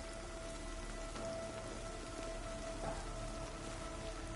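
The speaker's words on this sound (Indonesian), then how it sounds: "Di Malang hujan mulu guys, dingin banget di sini" Steady rain falls in Malang, a soft, constant patter on surfaces heard alone and fairly faint throughout.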